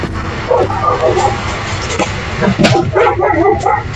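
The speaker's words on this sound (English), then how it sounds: "Dogs, always dogs." Dogs bark in the video game Wizardry 8, giving a few short yips and woofs scattered through the clip at moderate volume over steady game ambience.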